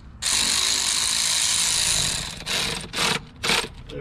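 A power tool tightens bolts down during an engine repair. A loud steady whir runs for about two seconds, then short bursts follow as each bolt seats, close up and with no speech.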